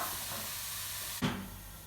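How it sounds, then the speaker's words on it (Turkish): Lamb cubes sautéing in a hot pan, a steady sizzling hiss throughout with a brief louder burst of spitting near the middle, close and fairly quiet, with no talking. "Şimdi öncelikle etlerimizi güzelce kavuracağız."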